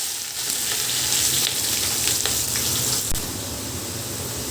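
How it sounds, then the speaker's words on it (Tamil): Sliced large onions sautéing on high flame for Andhra-style gongura chicken biryani, a loud dense sizzle that runs steadily throughout with faint stirring noises, close up. "ஹை ஃப்ளேமில் வெங்காயம் வந்து நல்ல ப்ரௌனிஷ் கலருக்கு வர மொத்தம் நம்ம வதக்கிக்கணும்."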